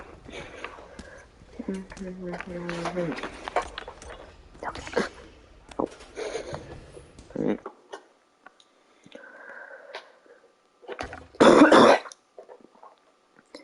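A person coughs and clears their throat in scattered bursts, some close and harsh, with one loud rasping cough near the end, broken up by short spoken comments and quiet pauses.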